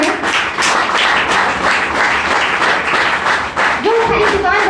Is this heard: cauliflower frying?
no